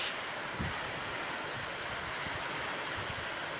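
Waves wash onto an empty Baltic Sea beach at Czołpino in a steady, soft surf hiss, with occasional low wind buffets thumping against the microphone and no voices.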